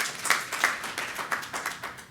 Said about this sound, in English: if we could just give a welcome round of applause for Paula